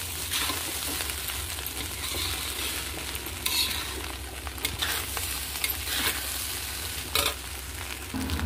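Spiced rice with garam masala is stirred in a hot pan. The steady sizzle runs the whole time, with scraping stirring strokes and clatters recurring every second or so, and no talking.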